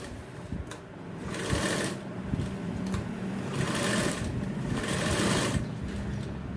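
A sewing machine stitches the lining of a jacket in a tailoring shop, its rapid mechanical chatter running steadily in loud surges that rise and fall with the pace of the stitching.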